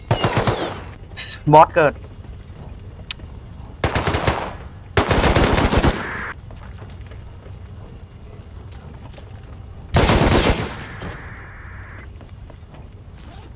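Automatic gunfire bursts from the survival game Rust, several loud rapid volleys spaced apart among quieter game sounds, with someone speaking Thai briefly between them.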